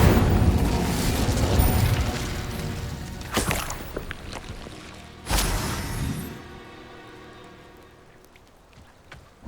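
Spellcasting in Hogwarts Legacy, including the Incendio fire spell: loud whooshing bursts and booms arrive in a chain, with two sharp, strong blasts standing out before the sound fades into a quieter crackling tail.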